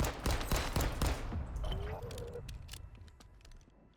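Call of Duty gunfire: a rapid burst of loud, close shots in the first second and a half, followed by scattered fainter reports and a falling whine that trails off into background battle noise.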